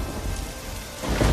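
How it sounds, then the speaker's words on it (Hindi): Heavy unseasonal rain pours down steadily, a dense loud wash of drops with a low rumble swelling near the end, no voices. "अब ऊपर से ये बेमौसम बारिश"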